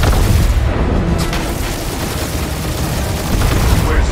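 Heavy gunfire and explosions in the Marvel's Guardians of the Galaxy video game merge into a dense, loud, continuous roar of combat that lasts the whole stretch.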